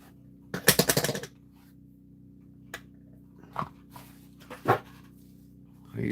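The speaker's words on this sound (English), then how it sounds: "I'll punch my holes, put my rivet in for my" Holes being punched in a leather knife sheath for a Buck 110, heard as a quick burst of sharp impacts followed by several single knocks over a steady low background hum.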